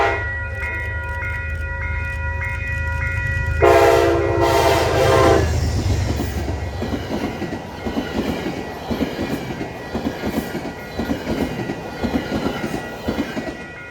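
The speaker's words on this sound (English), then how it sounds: "P-32 number 203 in a classic retro scheme leads a northbound train for Beacon" A P-32 diesel locomotive pulling a northbound passenger train rumbles past with a loud horn blast early on, then a steady rolling clatter of wheels on rails continues, along the Hudson River.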